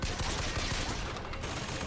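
Rapid, loud gunfire from a weakly damaging weapon in a video game is aimed at a turret, a dense stream of sharp shots with no pauses.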